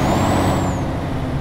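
A MAN TGX truck engine in Euro Truck Simulator 2 rumbles steadily with a hissing air release and a faint high whine, loud and close, no voices.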